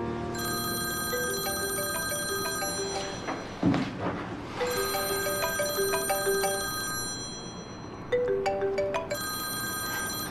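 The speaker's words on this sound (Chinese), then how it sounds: "温让，你知不知道你这个电话很不合时宜啊？" A phone rings with a bright electronic ringtone in an office setting, repeating melodic bursts with short pauses between them over soft background music, no talking heard.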